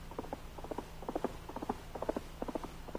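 Small, fleet horses clip-clop at top speed along a trail, a fast steady patter of hoofbeats close by with a low hum underneath.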